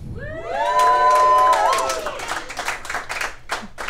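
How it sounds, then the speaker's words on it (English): A comedy club audience breaks into loud cheering, whoops and clapping that fades into scattered applause. "You should not clap."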